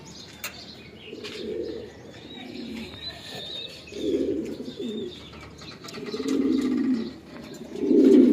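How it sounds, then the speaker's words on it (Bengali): Pigeons in a loft full of young birds and nesting adults coo in repeated low, throaty bursts, growing louder toward the end, with faint chirps and occasional wing flaps in the background and no talking. "এই যে এখানে আমার হিউজ পরিমাণে বাচ্চা, এগুলো সব বাচ্চা কবুতর"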